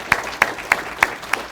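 Clapping at a luncheon: five evenly spaced, fairly close hand claps in a steady rhythm over quiet room ambience, more like one or two people than a full crowd.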